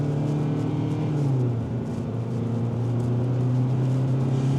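A 2026 Kia Sportage X-Pro Prestige AWD with a 2.5-liter direct-injection four-cylinder and traditional 8-speed automatic drones steadily while driving, a low, even engine hum heard from inside the cabin with no talking.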